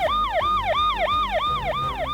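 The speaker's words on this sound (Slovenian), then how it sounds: "Spet se zasliši zavijanje siren. Pridrvi policijski avtomobil." A police car siren wails steadily in rapid rising and falling sweeps, loud and close, with a low vehicle rumble underneath and no talk.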